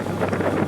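Wind blows steadily across a sailboat at sea, producing a continuous, close rumbling wind buffet on the microphone with no talk.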